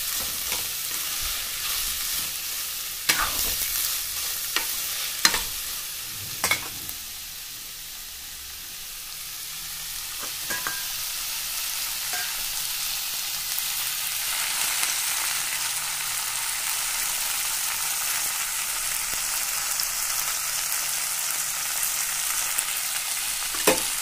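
Seeded capsicum fries steadily in hot oil, a continuous close sizzle with a few sharp spatula knocks early on, alone without any voices throughout.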